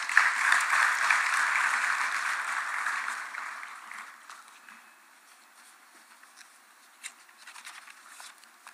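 Applause from a business forum audience, loud steady clapping that fades out after a few seconds, leaving a quiet room with scattered faint claps and rustles.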